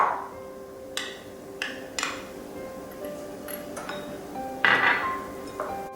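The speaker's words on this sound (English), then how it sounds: "I'm going to give this a stir" A spoon clinks and taps against a metal pot while stirring honey and peanut butter, giving light irregular metallic ticks and scrapes, close and fairly soft.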